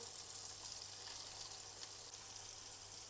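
Porcini mushrooms sizzle steadily in a hot pan, a soft, even crackle with no talking.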